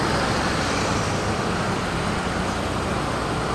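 Congested traffic outside Pasar Kramat Jati market in Jakarta: a continuous, dense roar of car, bus and truck engines with no break, close and fairly loud.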